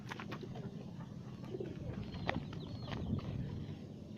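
Pigeons coo softly at a distance beneath a dense, noisy background, with faint scattered calls throughout.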